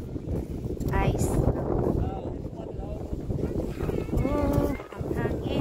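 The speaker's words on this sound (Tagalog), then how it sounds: "Oh, ang hangin." Gusty wind at a snowy campsite rumbles against the microphone, rising and falling, while people talk over it.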